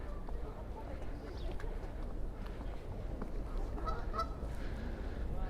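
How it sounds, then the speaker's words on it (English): Geese honk at a boat landing in Central Park, New York City, in early spring: faint, scattered calls over a steady low outdoor rumble. "There's some geese here at the boat landing."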